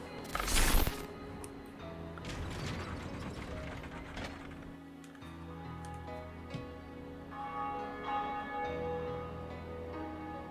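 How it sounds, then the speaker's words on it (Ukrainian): A large church bell tolled at a tower top in Dark Souls Remastered: a heavy mechanical clank opens, then deep resonant bell tones ring and decay with grinding, ratcheting mechanism sounds throughout, no talking. "Так, подзвонили ми у дзвін."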